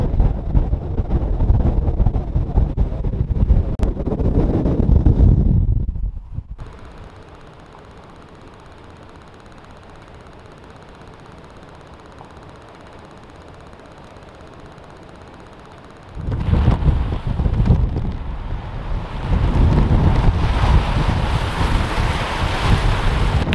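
Strong, cold wind gusts buffet the microphone on a wintry lakeshore near Niagara at minus three degrees, a loud, rough roar that eases into a steadier rushing hiss before surging back hard.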